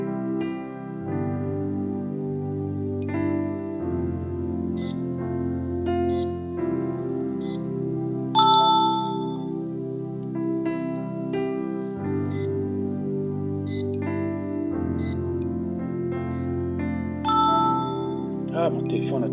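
Phone speaker blaring advertisement audio during a French-language sermon, a loud, steady stream of synthetic musical tones and chimes with beeping accents, running continuously on its own.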